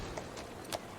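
Horse hooves clip-clopping in the video game Assassin's Creed Syndicate, a few steady light footfalls over constant background game ambience, with no voices.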